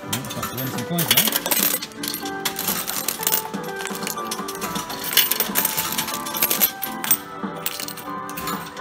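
Coins clatter and drop in a 2p Pac Man coin pusher arcade machine, a dense run of bright metallic clinks and jingles over a steady mechanical hum, close and fairly loud throughout.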